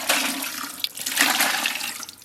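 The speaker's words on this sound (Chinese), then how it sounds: "咱们锅里边稍微来点水" Water splashes and gushes into a cooking pot holding pork knuckles, a brief continuous pour heard close up.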